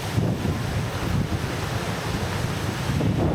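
Gullfoss waterfall in Iceland roars continuously under gusting wind buffeting the microphone, a broad, steady rushing wash with no voices.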